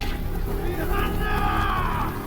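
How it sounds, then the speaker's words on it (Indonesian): Guards shouting outside in a Mortal Kombat (2021) film scene, a loud crowd of yelling and bellowing voices running together for a couple of seconds. "di luar terdengar teriakan penjaga"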